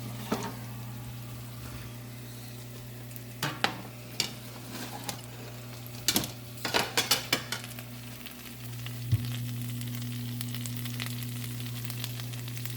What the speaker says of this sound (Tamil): எங்களுக்கு நல்லா பொரிஞ்சிட்டு நாங்கள் எடுக்க போகிறோம்